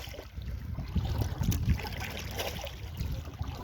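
Double-bladed kayak paddle dipping into water from a canoe in steady strokes, with soft splashes and trickling drips over a low wind rush, fairly close and moderately quiet, no voices.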